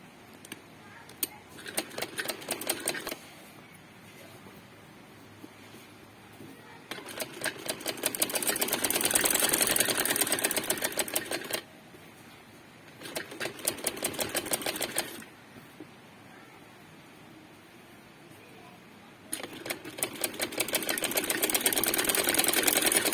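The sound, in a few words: sewing machine stitching fabric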